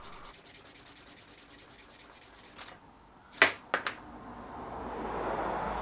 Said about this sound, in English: The edges can be burnished as simply as wetting them and then using this wooden edge burnisher.